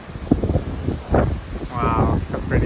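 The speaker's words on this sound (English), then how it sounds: "So windy." Strong wind buffeting the microphone on the deck of the Norwegian Bliss cruise ship in Alaska, loud gusty rumbles rising and falling, with a voice speaking under the gusts.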